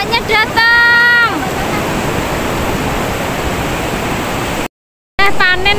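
Ocean waves break on a beach near Banyuwangi, Indonesia, a broad, steady rush of surf washing in close by, with brief voices at the start and end.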